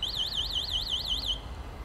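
A ZAXBOARD AVATAR electric scooter sounds its find-my-scooter locate signal: a warbling, siren-like electronic tone that rises and falls rapidly for about a second and a half, then cuts off, leaving a low background rumble.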